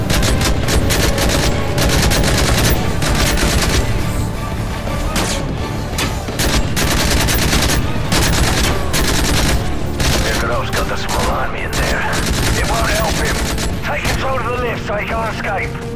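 Gunfire in Call of Duty: Modern Warfare 3 during the mission "Dust to Dust": dense bursts of automatic fire and booming shots pound almost without pause, with voices shouting over the battle.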